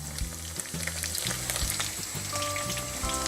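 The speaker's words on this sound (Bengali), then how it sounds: "তেলটা গরম হয়ে গেছে। এবার আমরা দিয়ে দিব পেঁয়াজ" Chopped onions frying in hot oil, giving a steady crackling sizzle close by, over a low, pulsing background hum, with no voices.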